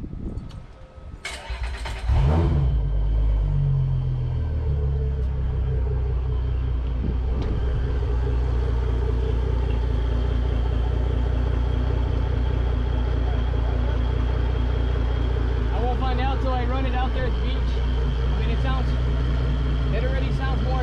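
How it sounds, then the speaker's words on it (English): Mercury Verado outboard boat engines started after a pencil coil change, cranking briefly then settling into a steady, close, loud idle rumble that continues throughout, with faint talk in the background. "So let's check out the engines right now, see how they sound."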